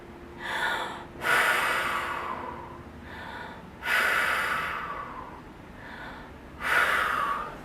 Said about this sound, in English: you want to have your belly expand as you're taking a deep breath, bringing all the air down into your diaphragm